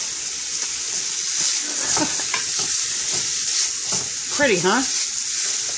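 Onion, peppers and other vegetables for shakshuka sizzle steadily in a hot pan while being stirred, with soft scraping and clinks close by. A voice speaks briefly over the constant hiss.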